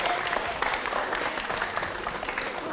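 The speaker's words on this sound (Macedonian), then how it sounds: "може еден силен аплауз вака да му дадеме на подршка" Schoolchildren and their group give a burst of steady applause, dense clapping that carries on evenly throughout at moderate volume.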